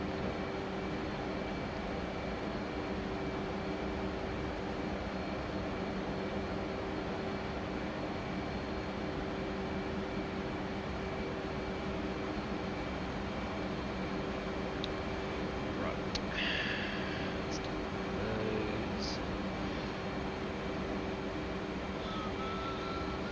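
Cockpit jet engine drone from a cold war era aircraft in the DCS World flight simulator, a constant dense roar with a steady tone, and a few short electronic chirps partway through.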